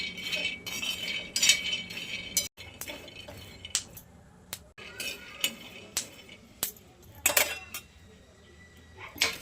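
Peanuts roast in a pan, giving close, irregular clinks and rattles of nuts and metal utensil against the pan, with quiet gaps between the bursts.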